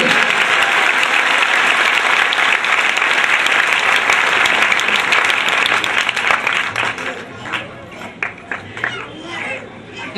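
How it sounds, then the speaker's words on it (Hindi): A church congregation claps loudly and steadily for Jesus Christ, the dense applause continuing for about six seconds before it thins into scattered individual claps, with a voice talking over the tail end. "सब जोर से तालियां बजाएं यीशु मसीह के लिए"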